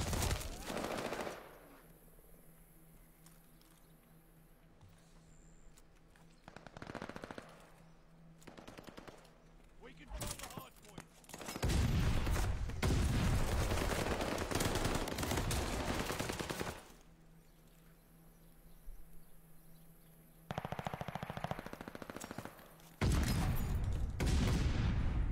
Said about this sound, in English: Guy's using a pistol now.